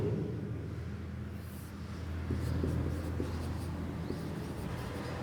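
Writing on a board during an English grammar lecture in a classroom, a steady low scratching under room hum, continuous through the clip with a few faint taps, no talk.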